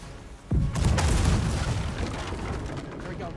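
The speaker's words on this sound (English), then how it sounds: "Right cannons ready!" Ship cannons fire in the pirate naval game Blackwake, a heavy booming blast with a rumbling tail, loud and close, while voices talk over the battle.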